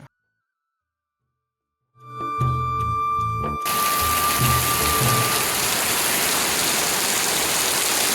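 After a brief silence, heavy rain starts up as a dense, loud, steady hiss that continues without letup.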